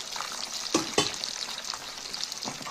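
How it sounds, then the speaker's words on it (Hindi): Fish frying in a hot pan gives off a steady close crackling sizzle, broken by two sharp utensil knocks near the start and lighter clicks later. "यहाँ से फिशेस फ्राई हो रही है"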